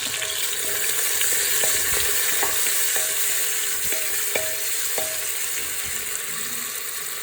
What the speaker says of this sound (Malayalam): 3 സവാള ഇട്ടിട്ടുണ്ട്. നല്ലപോലെ സവാള മൊരിച്ചെടുക്കാം.